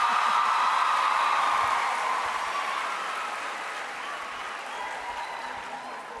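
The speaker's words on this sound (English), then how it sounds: "thus far that has been the loudest applause we've had" Audience applause at a university welcome ceremony, loud and dense at first and then slowly thinning as it fades, heard from within the hall.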